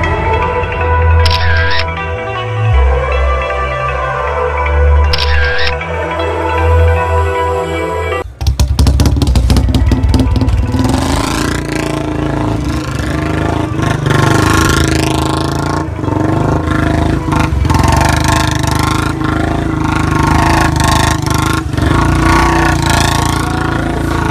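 Royal Enfield Bullet 350 motorcycle engine revving hard during drifting stunts, a loud continuous roar with rising and falling throttle bursts after a quieter opening with faint camera-like clicks.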